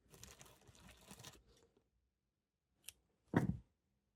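Scissors snip through fabric while trimming a handmade no-sew fabric cover, a rustling run of cutting sounds followed after a pause by a short snip and a louder, close crunchy cut.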